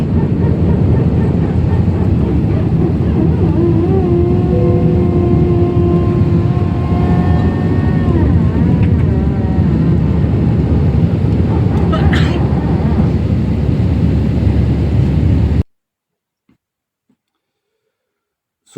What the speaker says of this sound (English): this was the sound coming out of that aircraft